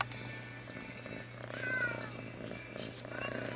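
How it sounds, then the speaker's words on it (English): A cat purrs loudly and steadily up close, a low continuous rumble with soft rhythmic pulses, while a person speaks quietly over it. "you gotta hear her purr"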